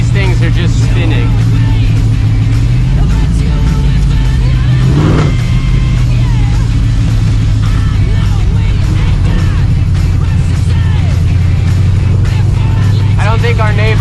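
A Nascar-inspired Chevrolet C10 truck spins its tires, its engine droning loudly and steadily with a brief rev near the middle. People talk over the noise throughout.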